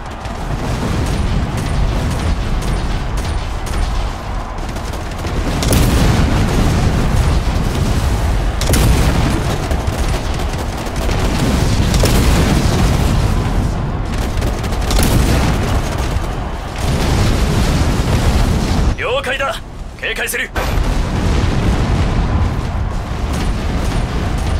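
Turret fire and explosions in the game Figureheads: loud, dense booms and bursts rolling one after another over a constant roar, with a brief lull near the end.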